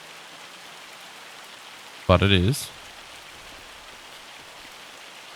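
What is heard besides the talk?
hail falling in the video game Farming Simulator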